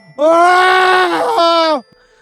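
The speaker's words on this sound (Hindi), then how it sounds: "ये देखकर नवीन के मुंह से बहुत जोर से चीख निकल गया" A loud, sustained scream lasting well over a second, a single drawn-out shriek that rises and then bends downward at the end, set as a sound effect in a Hindi horror story about a haunted house.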